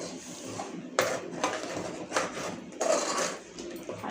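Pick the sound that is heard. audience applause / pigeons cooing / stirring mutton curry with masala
stirring mutton curry with masala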